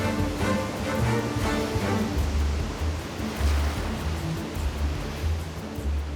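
Sea waves break and churn just offshore of a sandy beach where sea turtles mate, a steady loud roar of surf with rolling low rumbles and no talk.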